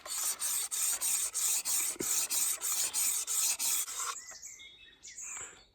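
Rhythmic rasping strokes of an obsidian arrowhead's surface being ground, about a dozen steady back-and-forth passes close up, then a pause with faint scrapes and small clicks.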